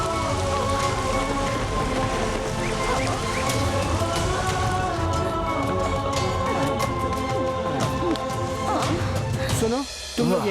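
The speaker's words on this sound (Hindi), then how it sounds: "ये बारिश कैसे हो रही?" Steady rain pours down in a dense, constant hiss of drops striking surfaces, continuing without a break, with a brief drop in intensity near the end.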